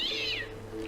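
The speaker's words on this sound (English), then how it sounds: "I made the cat angry." An angry cat in the game Alice Behind the Mirror lets out a single loud, drawn-out meow that falls in pitch, close and on its own, followed by a steady low hum.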